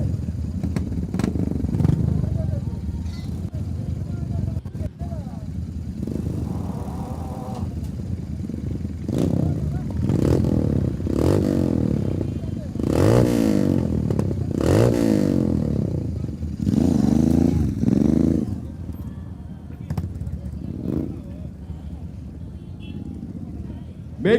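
Royal Enfield motorcycles in an eight-lap qualifying race heat, with engines rising and falling as bikes pass at varying distances, clattering and surging, while a loudspeaker announcer talks over much of the sound.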